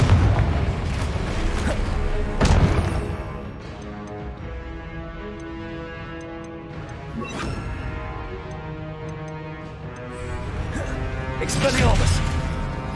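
A Confringo blasting curse in Hogwarts Legacy sets off booming explosive impacts, loud bursts at the start and again near the end with crackling debris between, while a voice talks throughout.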